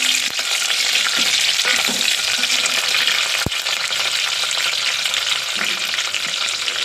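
Chopped green chillies fry in hot oil in a pan for egg biryani: a loud, continuous sizzle that stays even from start to finish, broken only by one sharp tap midway.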